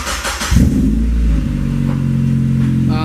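A BMW E30 engine fitted with a new custom downpipe starts and revs up, then settles into a strong, loud, throaty idle heard close up with no talking over it.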